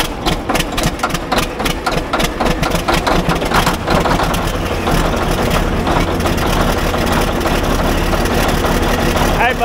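A Cat D8K bulldozer engine cranking and catching on a chilly morning, rapid chattering bursts settling into a loud, rough, low idle, with people talking nearby.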